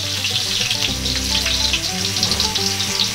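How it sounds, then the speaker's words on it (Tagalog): Chopped ginger sautéing in hot cooking oil for a beef and mushroom dish gives a loud, steady, hissing sizzle that continues throughout without pause or talk. "Ngayon po ay atin na pong gigisahin ang ating luya."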